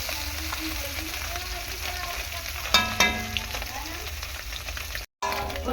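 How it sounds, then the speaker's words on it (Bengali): Small bele fish frying in oil in a pan, giving a dense, steady crackling sizzle up close, broken by a couple of sharp clinks from a spatula partway through. "মাছ ভাজা হয়ে গিয়েছে"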